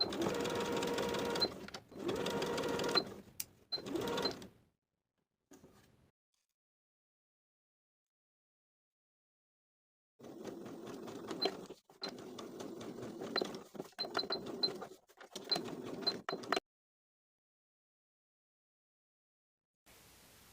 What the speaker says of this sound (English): as I sew to that center front and back stitch.